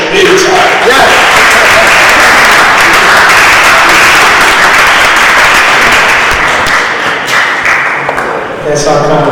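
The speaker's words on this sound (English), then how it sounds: "One more round of applause for the congressman." A crowd at a panel discussion applauds a congressman in loud, dense, sustained clapping that fills the room and then tapers off slightly near the end.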